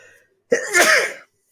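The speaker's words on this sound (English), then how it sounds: "You even get a sneeze in this video." A single sharp sneeze bursts out after a brief quiet, loud and close, with a short breathy tail.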